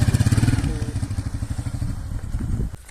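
A motorcycle's engine idling with a rapid, pulsing putter close by, then slowing and dropping off as the bike is parked, ending with a faint clatter.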